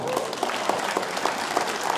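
A studio audience claps for the Chris Oxford Duo during a Polish chart show, a steady, dense patter of hands lasting a couple of seconds with a few sharper claps standing out.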